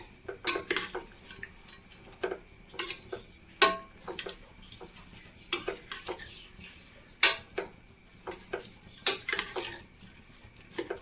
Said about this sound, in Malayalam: ഒന്ന് ഇളക്കി കൊടുക്കണം നന്നായിട്ട്